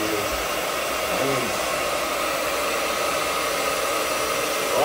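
A hair dryer runs continuously at high speed for a family basketball challenge, a loud, steady, close whooshing drone with faint background voices underneath.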